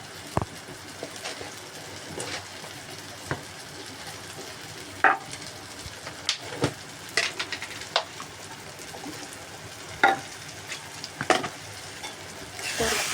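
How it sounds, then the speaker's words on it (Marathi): Spices sizzle and fry in a pan, with a steady crackle broken by sharp scrapes and clinks as they are stirred, close and fairly quiet. "परतून घेते."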